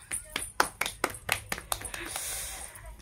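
Hands clap close by in a quick, slightly uneven run of about ten sharp claps, then fade out into quiet.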